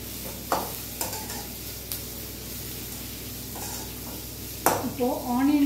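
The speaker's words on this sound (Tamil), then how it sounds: "இப்போ ஆனியன் போட்டுக்கலாம்." Onion sizzles in a hot pan while a utensil stirs it, scraping in a few sharp strokes over a steady frying hiss, with a brief voice near the end.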